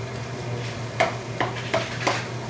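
Eggplant pieces frying with masala in a pan, a steady sizzle broken by four sharp spoon strokes scraping and clinking against the metal at a slow, even pace.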